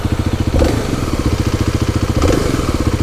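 A Kawasaki KLX300SM motorcycle idles with a snorkel mod, giving a rhythmic, close-up thumping putter with a faint gurgle and brief throttle blips.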